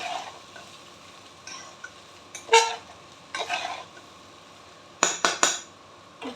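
Rice being stirred into a pan with chicken for chicken fried rice, scraping spatula strokes and light sizzling in short bursts, with a few louder clanks against the pan.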